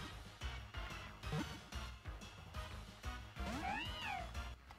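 A cat-like Pokémon meows in a Pokémon video game, several short cries over a busy backdrop of game music and effects, with a longer rising and falling call near the end.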